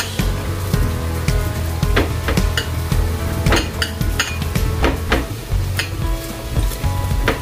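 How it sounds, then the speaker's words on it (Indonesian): Bok choy and shrimp stirred in a hot pan, constant loud sizzling and frying with frequent clinks and scrapes of a utensil against the pan, no voices. "Terus kita aduk terus."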